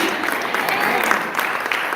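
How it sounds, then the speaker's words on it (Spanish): A church congregation claps hard and continuously, a dense, loud wall of applause filling the hall with no break. "Si le vas a dar palmas al Señor, dáselas fuerte, que se oiga fuerte, fuerte, fuerte."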